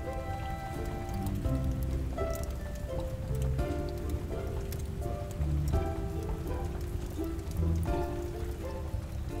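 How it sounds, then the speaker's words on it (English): Steady rain pattering persistently on windows through a stormy evening, a continuous dense hiss of drops at even loudness beneath a soft musical backdrop, no voices. "the rain indeed continues to patter persistently upon the windows"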